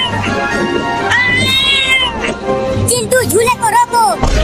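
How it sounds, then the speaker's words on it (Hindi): A cartoon cat meows repeatedly, with drawn-out, wavering cries close by, mixed with background noise and some talking. "अरे चिंटू, ये बिल्ली इतना बोल क्यों रही है, वो भी हमारे पास आकर"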